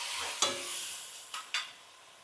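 Beans and carrots stir-fried in a pan with onion, ginger and garlic paste, a steady sizzle broken by a few sharp scraping clinks of the spatula against the pan.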